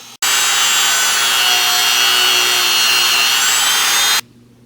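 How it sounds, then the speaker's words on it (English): A Dremel rotary tool on low speed drills into a lamp knob, a loud, steady high-pitched whine running continuously for about four seconds before cutting off abruptly. "just gonna put it on low speed and drill into it."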